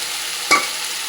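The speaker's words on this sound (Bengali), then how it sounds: "দিয়ে এগুলো মশলার সাথে ভালো করে সিমটাকে কষিয়ে দেবো" Fried flat beans sauté with spice paste and tomato in a pan, a close, steady sizzling hiss with a single brief scrape of the spoon midway, no voices.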